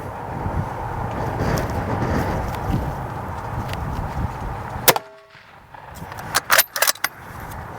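Rifle fired with a muzzle brake on a lighter rifle, one sharp, loud crack followed by a quiet lull, then several quick metallic clanks and rattles close by over steady background rumble.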